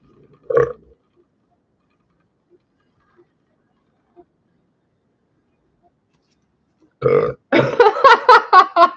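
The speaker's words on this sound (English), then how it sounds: "Excuse me, I had to burp." A short, loud burp from a person, followed by near silence with only faint ticks, then another person's voice speaking close at the end.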